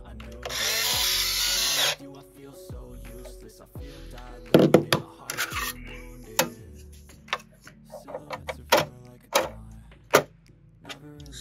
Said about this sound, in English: And screw them all down.